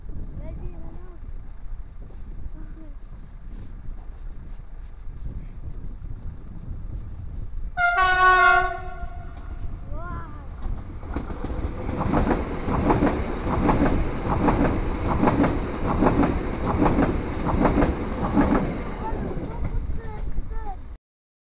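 A single-unit Z 50000 electric train sounds a loud, bright horn blast at a level crossing. It then rumbles past close by with steady rhythmic wheel clatter for over ten seconds while a voice speaks beneath the noise.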